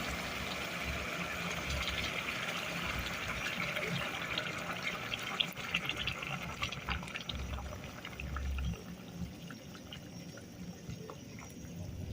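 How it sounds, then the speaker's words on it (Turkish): Water is poured from a container over bouillon and rice for a Turkish pilaf topped with gizzards, a continuous close splashing and trickling that holds steady, then eases slightly toward the end. "şimdi suyumuzu ilave ediyoruz. Şöyle pınar bulyonun üstüne tutuyorum."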